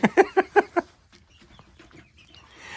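Chickens in a backyard coop give a quick run of five sharp clucks close by, then fall to soft scratching and faint rustling.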